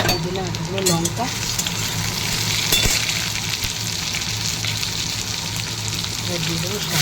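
Eggplant and potato fry in hot oil in a wok with panch phoron and green chillies, a loud steady close sizzle with stirring scrapes and a voice talking faintly over it.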